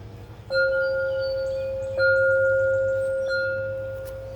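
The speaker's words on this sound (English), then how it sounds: "Hit the wind chimes." Garden wind chimes are struck three times, each strike ringing out as a clear, sustained metallic tone that slowly fades, close by and with no talking.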